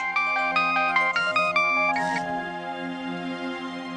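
A phone ringtone for an incoming call plays a bright, repeating electronic melody of short tonal notes over a steady background hum, then the melody stops and the hum carries on alone.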